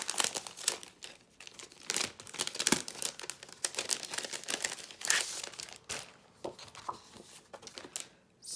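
A scrapbook paper pack is handled up close, giving repeated crisp crinkling and rustling in irregular bursts with brief pauses, with no talking.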